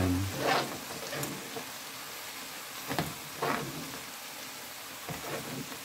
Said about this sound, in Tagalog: naglagay pala ako ng konting mantika kasi igigisa ko itong bawang